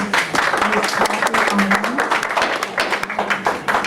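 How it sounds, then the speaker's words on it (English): Audience members clapping at a Fairfield County Council meeting, a burst of applause filling the room with voices mixed in, fairly loud and sustained. "We will not have any clapping."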